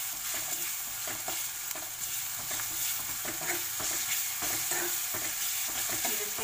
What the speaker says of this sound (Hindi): फ्राई कर लीजिए।